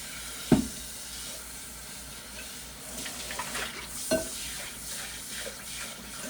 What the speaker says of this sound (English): So we're going to go ahead and rinse this bowl out.